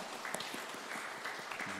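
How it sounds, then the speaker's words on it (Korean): Church congregation applauding during a Sunday worship service to welcome someone back, a fairly soft, steady patter of many hands that continues throughout, with no talking. "박수로 환영하겠습니다."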